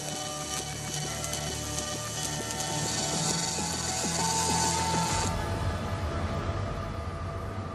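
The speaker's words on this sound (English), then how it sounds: "The robot works out the most efficient route and runs the program." An industrial robot runs its welding program on a Tesla factory floor, making a rhythmic, ratcheting mechanical clatter with a steady whine for about five seconds before it stops and leaves a low rumble.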